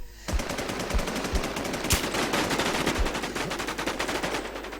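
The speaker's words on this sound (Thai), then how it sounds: "ยิงอยู่ยิงอยู่ยิงอยู่" Sustained automatic gunfire in the shooter game Warz, a dense, loud, close string of rapid shots with a few heavier booming hits running throughout, with no talk over it.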